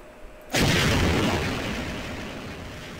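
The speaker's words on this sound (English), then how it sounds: "I just launched a rocket into this person's greenhouse thing" Rocket explosion in the video game Garry's Mod, a sudden loud boom followed by a long rumbling decay, with no talking.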